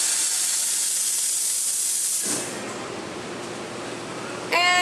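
A second steam wand on a three-group La San Marco espresso machine hisses loudly and steadily, then drops to a quieter rushing tail before a short clatter at the end.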